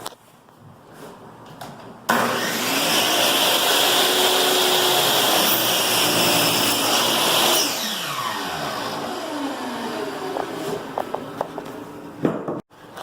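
A power saw cuts through wooden baseboard trim, a loud steady whine starting abruptly and running for several seconds before winding down, followed by a few light clicks and knocks.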